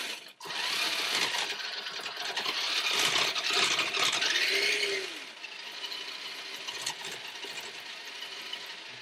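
A Tamiya MF-01X Suzuki Jimny RC car motor whines under light throttle at full steering lock as its drive shaft binds in the stub axle, giving a close, rattling, ratcheting buzz that rises and then fades to quieter clicks.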